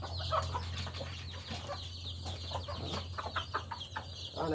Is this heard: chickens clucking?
yes